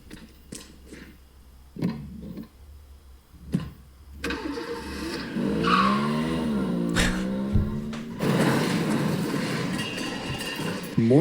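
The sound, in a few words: cartoon car skidding sound effect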